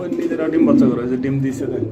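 Pigeons coo at close range in a pigeon loft where birds are kept for sale, soft low throaty calls blending with a voice talking over them.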